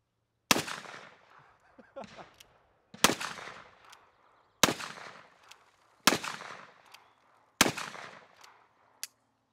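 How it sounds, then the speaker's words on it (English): Revolvers fired from the hip, a Colt Single Action Army and a Smith & Wesson Model 3 by Uberti, outdoors: five loud, evenly spaced single shots with echoing decays, and a faint talking voice between them. "Little hip shooting here?"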